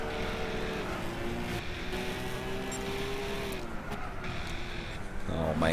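A Callaway car's engine revs and drones steadily in Gran Turismo 6 during a Tour of America race, a continuous mid-level hum with slight pitch shifts and a brief rise near the end, under someone talking.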